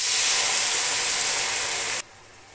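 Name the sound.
mushrooms sautéing in a pan with a splash of soy sauce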